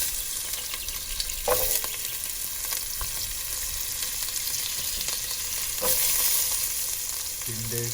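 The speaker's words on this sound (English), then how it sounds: "Add your vegetables now. Potato, carrot," Potato and carrot pieces frying in oil for sambar make a continuous close sizzle, with a couple of louder scraping stirs and light clinks of the spoon, no voices.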